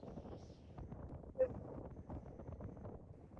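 Wind gusting outdoors at a busy garden bird feeding station, a steady broadband rush with a brief louder gust midway, swaying continuously throughout.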